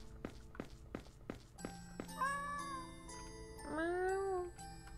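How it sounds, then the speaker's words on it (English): A cat meows in the video game Misao, a few sharp thumping steps first, then two drawn-out wavering meows, close and clear over a faint steady hum. "It's a cat. Meow."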